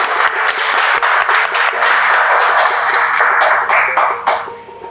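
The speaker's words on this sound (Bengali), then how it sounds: "সকলে জোরে হাততালি" A game show studio audience applauds in a dense, steady burst of clapping that holds for several seconds before thinning out at the end, with no talk over it.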